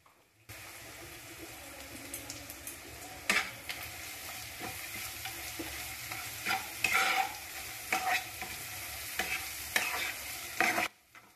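Cumin powder and coriander powder sizzle softly as they are stir-fried in a pan, under a steady low frying hiss with a spatula scraping and tapping in intermittent strokes, close by and fairly quiet.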